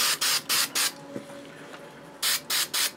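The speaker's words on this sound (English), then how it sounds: "I'm going to spray 77 the interior" Spray 77 adhesive hisses from an aerosol can into the interior of a plastic helmet shell in short bursts: four quick sprays, a pause with a faint knock, then three more, close and loud.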